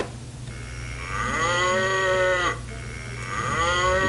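Cow mooing, two long drawn-out lowing calls separated by a short pause, loud and near over a low steady hum.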